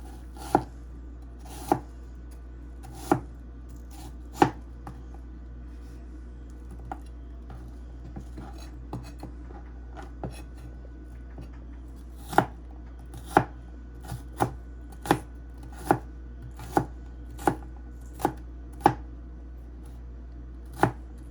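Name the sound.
chopping food into small chunks with a knife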